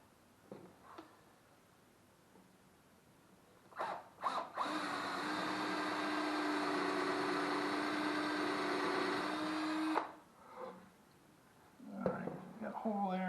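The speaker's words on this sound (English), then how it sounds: "I'm going to drill a hole in it right there" A power drill bores a hole through a scrap-wood band saw push block, one steady whining run of about six seconds in a workshop, with brief talk and tool handling before and after.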